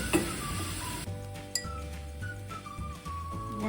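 Ginger and garlic fry in a pan with a soft sizzle, broken by occasional clinks and scrapes of a utensil against the pan; no talking.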